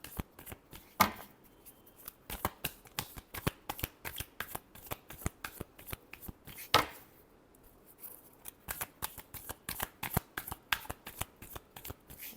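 Tarot cards are shuffled by hand in quick, crisp riffling bursts, close and fairly quiet, with brief pauses between runs.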